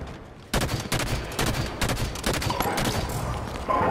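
Rapid automatic gunfire in Halo 5 multiplayer, a dense, loud stream of shots with brief gaps that runs the whole time, with no talking.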